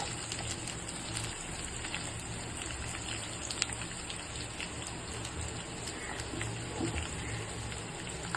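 A medium onion, thinly sliced, goes into hot oil for a sambar tempering and sizzles with a soft, continuous rain-like crackle and scattered pops, fairly quiet and without talking.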